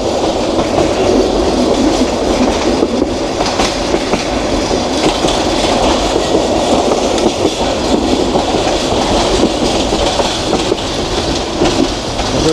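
A passenger train from Dhaka to Mohonganj runs on rails past Tejgaon station, giving a loud, continuous rumble with a steady clickety-clack of the wheels and no voices throughout.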